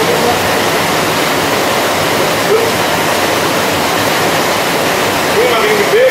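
Heavy rain pours in a dense, loud, steady hiss that fills the whole scene, with a voice faintly audible beneath the downpour.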